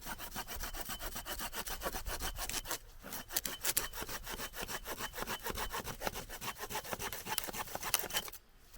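A hand saw cutting through a dead piece of wood with a natural split at a campsite, steady rhythmic back-and-forth rasping strokes close up, with a brief pause partway and a stop at the end.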